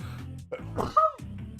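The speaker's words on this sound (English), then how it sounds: "Sorry for the sneeze." A single sharp sneeze bursts out in the middle, set against a steady background of music or game sound, during a live PokeMMO shiny-hunting stream.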